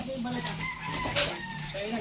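A rooster crows with a drawn-out, wavering call, steady through the clip over faint background noise.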